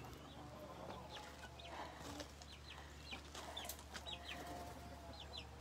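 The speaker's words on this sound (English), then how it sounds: "A lot of misbehaving chickens." Chickens cluck in a backyard chicken yard, with scattered calls from several hens over a steady low background hum; moderately near, no talking.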